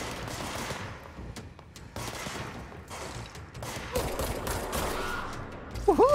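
Rapid hip-fired gunfire in the game Control, a quiet stream of bursts and shots with some mechanical clatter, ending in a louder crack.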